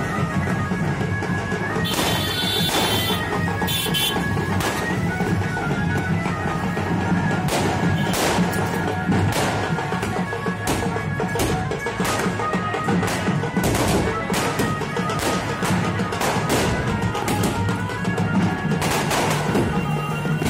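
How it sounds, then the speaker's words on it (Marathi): Firecrackers burst throughout a Durga immersion rally at Gandhi Chowk, Yavatmal, with sharp irregular cracks and bangs over a constant crowd and street din, some volleys rapid, others spaced apart. "इथे भरपूर फटाक्यांची आतिषबाजी केलेली आहे।"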